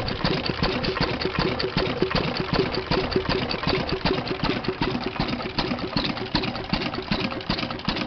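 An antique stationary engine, in place on a rural property since the 1930s and fitted with a shaft-driven fuel pump and mechanical oiler, runs steadily close by with a loud, regular chugging beat throughout.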